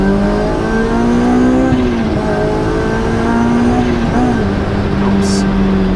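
Honda S2000 CR sports car engine revving while driving, a loud close in-cabin drone that rises and dips with throttle changes, with a voice talking briefly over it.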